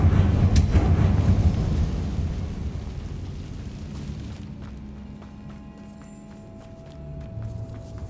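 A Confringo fire spell blast in Hogwarts Legacy erupts as a heavy, booming explosion up front, then trails off into a long, low rumbling decay with faint crackles.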